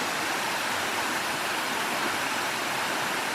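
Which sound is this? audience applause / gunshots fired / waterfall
waterfall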